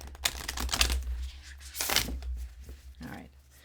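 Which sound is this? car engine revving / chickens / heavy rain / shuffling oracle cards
shuffling oracle cards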